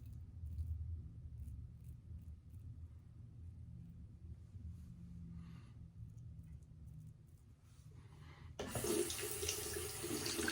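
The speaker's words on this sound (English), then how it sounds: "See the Ares, you just run it under the water a tiny bit, bam, ready." A Lambda Ares razor is rinsed under a running tap, a steady hiss of water that starts abruptly near the end and continues loud and close after a low background rumble.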